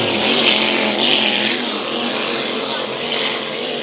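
A Hydro 350 racing hydroplane rounds a turn at a Valleyfield race, its engine a loud, sustained high-pitched roar that barely wavers across the clip.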